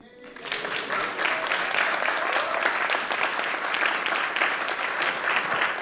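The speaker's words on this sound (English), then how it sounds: "so I need a little applause." An audience at a college elevator pitch competition breaks into applause, starting softly and swelling within a second into steady, moderately loud clapping that holds to the end.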